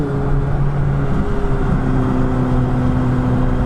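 A supercar, a 2018 McLaren 570S or Ferrari 650S Spider, accelerating on the open road, heard from inside the cabin as a loud, steady engine drone with strong low harmonics that climb slightly in pitch and stay constant throughout.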